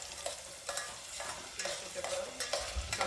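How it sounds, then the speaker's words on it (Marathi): Masala spice paste stirred and fried in a pan for homestyle chicken rassa curry: repeated close scraping strokes of a spoon over a steady sizzle, with no talk. "मसाला चांगला परतून घ्यायचा."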